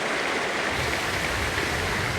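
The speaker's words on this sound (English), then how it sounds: "It's the sound of the waves surging through the first floor of the house" Storm surge waves surge through the first floor of a house during a hurricane, a dense, continuous roaring rush of churning water filling the whole span without pause.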